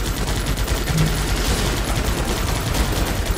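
Dense continuous gunfire in the video game Guns Up!, overlapping rapid machine-gun bursts forming a loud steady barrage with no break.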